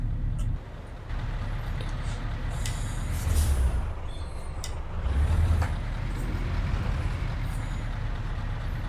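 Truck in Euro Truck Simulator 2 parked and idling, heard from outside the cab, with a low diesel rumble, air brake hisses and a couple of brief higher mechanical sounds, no talk.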